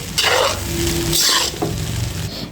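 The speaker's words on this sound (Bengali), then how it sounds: "এখন আমি নেড়ে ছেড়ে মিশিয়ে নিচ্ছি।" Cooked rice stirred in a hot frying pan, with a steady close sizzle and scraping spatula strokes sweeping through it in several loud passes, no voices.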